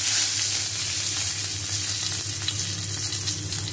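Bay leaf and whole spices sizzling in hot oil for egg curry, a loud, steady crackling fry that holds without a break, no talk.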